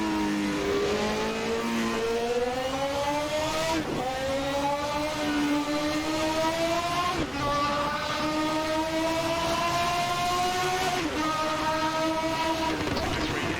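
A 1991 Formula 1 car engine screams steadily in Assetto Corsa, with harmonic whine rising through the gears and brief dips at each upshift, loud and continuous throughout.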